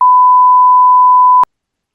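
A single steady electronic censor beep, a pure mid-pitched tone held loud and alone for about a second and a half before cutting off abruptly.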